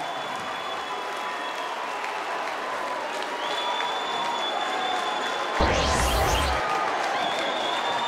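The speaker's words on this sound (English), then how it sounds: "And listen to the crowd." A high school boys basketball crowd at a Minnehaha Academy versus DeLaSalle game roars with steady cheering and applause, loud and continuous, with a sharp swelling burst partway through and a few shoe squeaks on the court.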